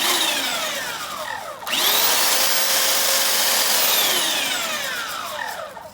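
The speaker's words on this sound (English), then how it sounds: "So first off, let's take a look at the belt sander." An electric handheld belt sander runs loudly and steadily, with a whining motor and abrasive rubbing that shifts pitch as it spins up and runs on.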